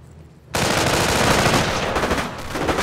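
Sustained machine gun fire in a World War II strategy game, Company of Heroes: Tales of Valor, erupting suddenly after a quiet moment and continuing as a dense, loud, rattling burst with booming shots mixed in.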